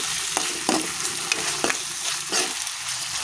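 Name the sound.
stirring ginger paste frying in a pan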